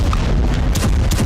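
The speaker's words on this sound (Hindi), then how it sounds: "एक के बाद एक कई मिसाइल धमाकों से करमान शहर दहल गया।" Heavy missile explosions with a deep, loud rumble, two sharper blasts landing close together in a short burst, in the city of Kerman, Iran.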